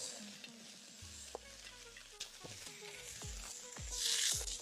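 Pork bones and peanuts tumbling into a hot wok with oiled ginger, giving a soft sizzle and a few scraping stir strokes, fairly quiet and close, with a hiss that swells near the end.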